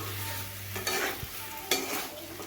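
Papaya curry with slit green chillies stirred in a pan: a soft background sizzle with two brief scraping strokes of the spoon, close and quiet, no voices.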